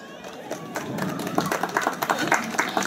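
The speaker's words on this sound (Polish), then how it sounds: "Zapraszam nowo wymienione osoby i oczywiście brawa dla Państwa." Audience clapping at the consecration and opening of an outdoor sports and recreation ground in Czernica, a dense patter of many hands growing louder toward the end, with a crowd murmur beneath.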